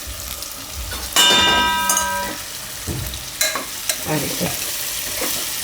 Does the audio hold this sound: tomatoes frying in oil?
yes